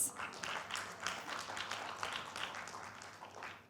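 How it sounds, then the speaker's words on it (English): An audience applauds the panelists at the launch of the Second ASEAN Haze-free Roadmap and Policy Dialogue, a steady, dense wash of many hands clapping throughout, moderately loud and without talk. "please give a round of applause for our panelists"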